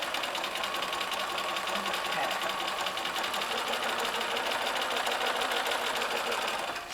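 Sewing machine stitching quilt fabric for a landscape quilt, a fast continuous mechanical whir at an even rhythm, close and steady throughout with no pauses.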